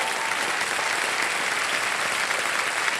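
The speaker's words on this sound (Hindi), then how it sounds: "और एक बार फिर जोरदार तालियां बज जाएं" A television quiz-show studio audience on Kaun Banega Crorepati claps loudly and steadily, a dense, sustained wash of applause with no pauses or voices.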